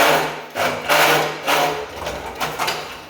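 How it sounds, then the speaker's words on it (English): A Harbor Freight jack is pumped to lift an off-road vehicle axle with an offset differential, giving repeated rhythmic mechanical strokes up close, roughly one each second, with clanks and squeaks between them. "Just going to start off with the Harbor Freight jack here"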